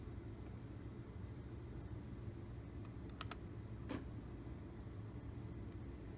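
A few sharp computer keyboard key presses, including an Enter keystroke, click faintly in a short cluster over a steady low background hum.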